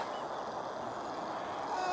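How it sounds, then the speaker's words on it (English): Faint, distant geese honking at a lake, in a quiet outdoor setting with soft background noise. "What's making all the noise? Geese, isn't it?"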